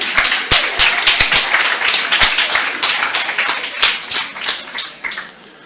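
An audience claps hands in a lively burst, distinct individual claps standing out over a dense wash that thins toward the end.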